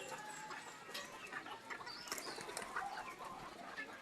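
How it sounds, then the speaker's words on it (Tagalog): Pigeons and bantam chickens together in a backyard coop, with scattered clucks and soft cooing calls over a busy outdoor background, no talking. "Ayan mga kalapati ko. Ayan. Ayan sila. Saka mga manok ko na bantam."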